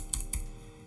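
Two quick keystrokes on a computer keyboard while a Django command is typed, crisp and close, followed by quiet.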